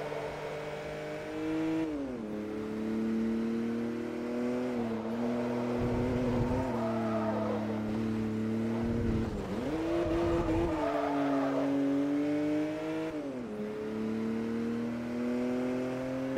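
Race cars in Forza Motorsport 3 during a Toyo 300HP run-off, engines droning and shifting pitch up and down through gear changes, with bursts of tire squeal in the corners, steady and close throughout.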